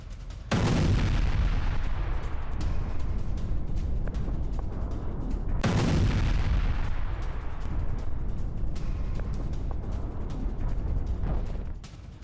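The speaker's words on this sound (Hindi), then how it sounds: "धमाके में पूरी तरह से तबाह हो गई इमारत।" Two massive explosions from a drone attack destroy a building, each a sudden broadband blast followed by a long rumbling decay, set against continuous loud roaring and crackling.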